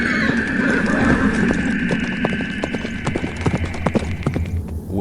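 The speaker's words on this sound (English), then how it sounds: "he heard the pounding of horses' hooves behind him" Horses' hooves pound in a steady clip-clop rhythm, loud and close, over a low rumbling hum, with a faint whinny-like tone running through the background.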